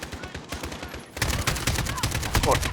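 Dense, rapid gunfire bursts crackle continuously in Call of Duty: Modern Warfare, growing louder and busier halfway through, with layered shots, sniper fire and explosive pops, like a chaotic firefight.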